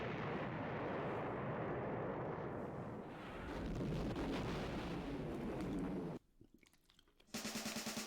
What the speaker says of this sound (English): we get the right to go into the rocket, and we're going to shoot off to space